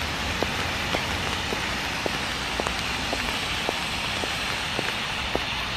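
Steady rain falls in Seoul, South Korea, a dense continuous hiss with scattered sharper drips and taps throughout, fairly close and alone with no voices.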